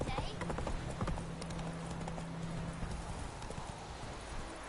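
Roach, the horse in The Witcher 3, gallops with rapid clip-clop hoofbeats over game ambience. Someone talks over the hooves, and a brief whinny or tonal sound occurs early on.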